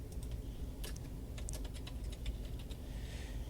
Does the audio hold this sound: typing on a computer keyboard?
yes